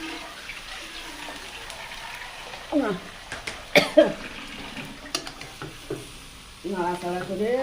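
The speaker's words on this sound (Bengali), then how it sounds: "নাড়াচাড়া করে এবারে দেখি" Ridge gourd and shrimp frying in a pan with a little water added, stirred with scraping, clinking strokes over a steady sizzle, joined by short bursts of nearby voice and a cough.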